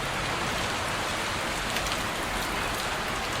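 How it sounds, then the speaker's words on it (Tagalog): Heavy rain pours steadily, a dense, even hiss of drops drumming on surfaces with no letup. "Lakas ng ulan."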